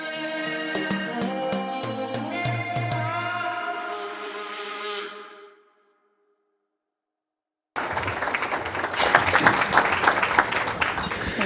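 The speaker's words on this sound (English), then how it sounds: "I'll pass your round of applause on to Valerie and Renee for sure" An audience at a harbor-side community event bursts into applause after music, dense clapping that is loud and sustained for several seconds following a short silence.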